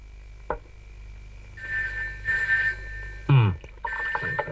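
A telephone ringing, a repeated electronic ring in short bursts, fairly clear, with a couple of knocks or thuds between rings.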